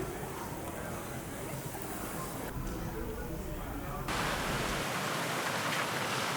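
Heavy rain pours outdoors in a historic town district, a dense, steady hiss that fills the scene and grows slightly louder partway through, with no voices over it.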